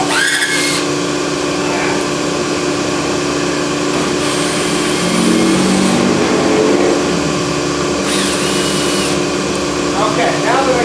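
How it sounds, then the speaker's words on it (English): Screws removed from the blower housing of a Laars boiler during servicing, with brief whirring bursts of a power driver over a constant loud mechanical hum, and someone talking in between. "Now I'm going to remove these 4 screws here"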